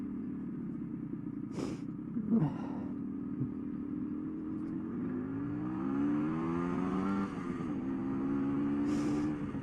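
A vehicle engine rumbles steadily, rising in pitch as it revs and approaches nearby, with a low continuous drone throughout.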